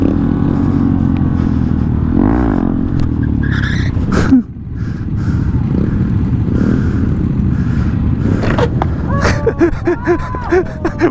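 Motorcycle engine revving hard during a long wheelie, loud and continuous with a sharp drop midway, then rising again with clattering and other voices over it.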